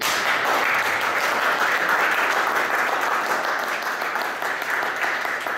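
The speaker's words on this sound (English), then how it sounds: "Round of applause." Audience applause at a seminar, a dense, steady wash of many hands clapping, loud and sustained throughout.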